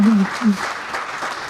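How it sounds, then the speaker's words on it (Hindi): Audience applause at a Hindi kavi sammelan and mushaira poetry recital in Bhopal, a short burst of clapping with voices over it, including a low vocal murmur near the start. "तालियां बजाते रहो।"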